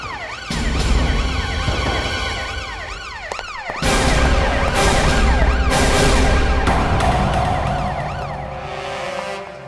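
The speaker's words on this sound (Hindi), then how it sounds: "ये तो हमारे ब्यूरो का सायरन है।" A wailing emergency siren rises and falls repeatedly, loud and close, with a second siren pattern joining partway through over traffic rumble.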